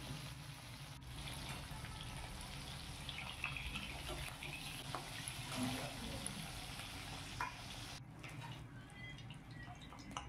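Koi fish frying in hot oil, a steady dense sizzle and crackle that runs throughout, fairly faint, then briefly thins near the end.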